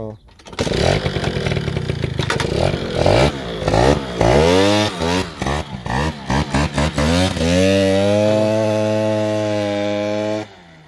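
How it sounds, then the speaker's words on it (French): A Fox motor vehicle engine is started and revs up, its pitch rising and falling through several bursts before settling into a steady, loud idle close by, then cutting off at the end. "on va la démarrer, ouais"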